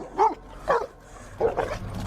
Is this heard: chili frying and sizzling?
no